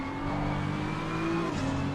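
A video game race car engine at Mount Panorama holds a steady high drone with a rising pitch as it accelerates, loud and continuous with no talking.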